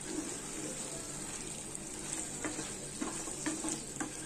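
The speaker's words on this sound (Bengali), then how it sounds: "ঘিটাকে ভালো করে মিশিয়ে দিচ্ছি" Ghee stirred into a pan of dhaba-style chicken curry, a steady soft sizzle with scattered spoon scrapes and clicks against the pan, close and moderately quiet with no voices.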